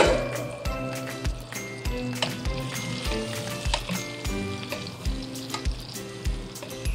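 Potatoes fry in hot oil in a pan with a steady crackling sizzle, mixed with repeated clinks and taps of a utensil against the pan.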